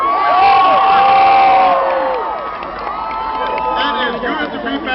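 Crowd cheering at a political rally in Philadelphia, Pennsylvania, a loud sustained roar of shouts and whoops that dips slightly midway and then swells again, with a speaker's voice over it.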